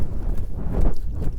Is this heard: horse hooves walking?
yes